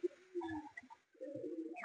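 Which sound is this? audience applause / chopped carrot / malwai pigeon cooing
malwai pigeon cooing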